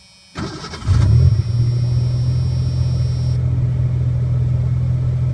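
A 1986 Ford Ranger 2.9 engine cranks and catches, then settles into a steady, loud low idle rumble that continues without pause.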